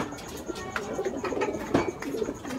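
Pigeons cooing repeatedly at close range during a pigeon race, the soft low coos recurring through the clip over a busy background, with a bit of nearby talk.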